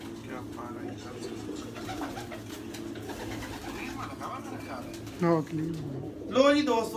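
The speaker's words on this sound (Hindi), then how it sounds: "यहाँ पर उस्ताद अली अलोक के छत पे ये कबूतर देख सकते हैं" Pigeons on a rooftop coo softly in low, repeated burbling calls under someone speaking, with a few sharper sounds near the end.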